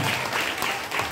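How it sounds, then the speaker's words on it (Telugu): Audience at a church gathering clapping loudly and steadily, a dense continuous wash of handclaps with no pauses. "గట్టిగా చప్పట్లు కొడదాం"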